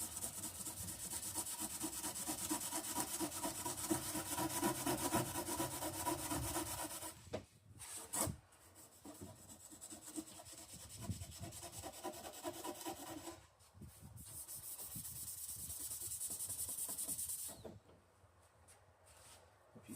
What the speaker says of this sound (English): just trying to get the old caulk off of there and get rid of that kind of dirty, that dirt scum line that was left behind